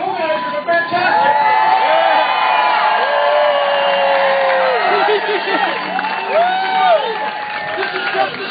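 A protest crowd at the March Against Monsanto in San Diego, May 2013, cheers and whoops loudly throughout. Many voices rise and fall together in a dense, sustained roar.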